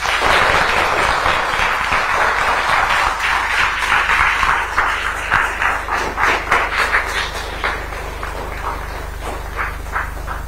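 Loud, sustained applause from an audience of schoolchildren at an event with the Andhra Pradesh chief minister, a dense wash of clapping that thins into scattered, rhythmic claps toward the end.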